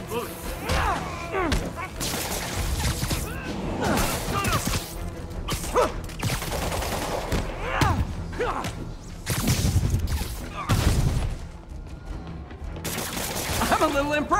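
Bursts of gunfire and mechanical clatter ring out during a fight with Shocker in Marvel's Spider-Man Remastered video game, loud and chaotic, with sharp impacts and whooshes across the stretch.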